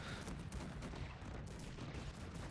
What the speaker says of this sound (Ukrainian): Гарматами починаю розстрілювати по селянам